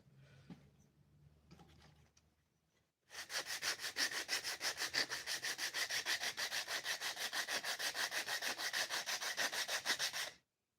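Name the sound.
sanding wooden box with 80 grit sandpaper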